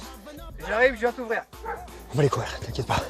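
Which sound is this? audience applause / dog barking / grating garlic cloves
dog barking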